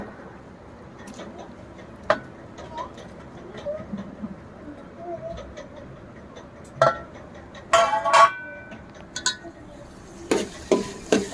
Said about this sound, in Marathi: आता चांगला टोमॅटो गळेपर्यंत आपल्याला परत परतायचे.